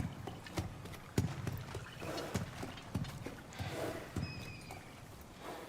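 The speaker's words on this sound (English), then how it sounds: "Is it a water horse or something?" Hooves of a water horse, a kelpie, in the video game God of War Ragnarök, clopping in an uneven walking rhythm with sharp individual strikes over a soft ambient bed, fairly close, with no talking.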